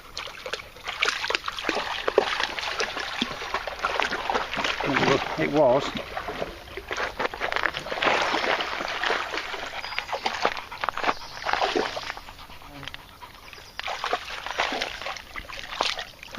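Dogs splashing and wading in a clear woodland stream, with continuous sloshing and rippling water close by and someone talking briefly over it.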